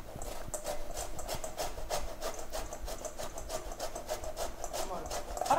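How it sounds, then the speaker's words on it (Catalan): An orange is grated by hand for an orange cake, making steady rhythmic scraping strokes close by, with people talking. "Vas a ratllar la taronja i rascant"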